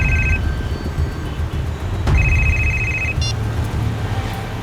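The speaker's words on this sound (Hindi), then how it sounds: "इसी वक्त एक फोन आना था" An electronic phone ringtone chirps in short repeated bursts over the steady rumble of a moving car.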